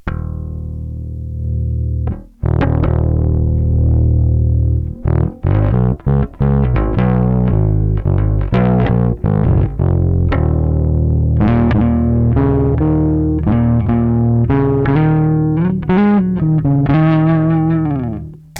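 Flatwound bass guitar played through a lightweight bass amp head with distortion or overdrive and the gain turned all the way up: a string of loud, fuzzy sustained notes and short phrases, played alone.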